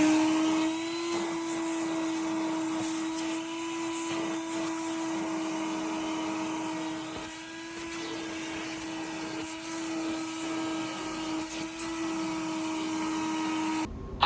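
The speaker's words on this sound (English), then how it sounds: "It's time to vacuum out." A vacuum cleaner running inside a Honda Civic as the car's interior is cleaned, giving a steady, fairly close motor whine and airflow hiss that keeps going throughout with small changes as the nozzle moves, and no talk.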